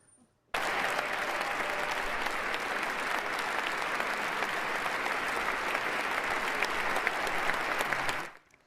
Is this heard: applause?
yes